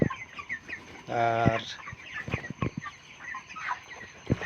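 Broiler chickens on a 500-bird poultry farm cluck and squawk nearby, with one loud drawn-out call and scattered shorter clucks, while someone briefly speaks.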